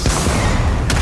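A grenade goes off in the video game Starfield, a loud, dense blast with a rumbling roar that fills the whole moment.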